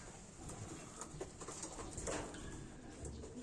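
Pigeons cooing softly near eggs that are hatching, a few faint low coos over quiet background rustle.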